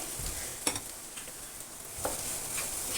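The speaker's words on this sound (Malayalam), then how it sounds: "നന്നായി ഇളക്കുക" Egg being stirred into fried rice in a hot pan, with a steady sizzle and several sharp scraping strokes of the spatula against the pan.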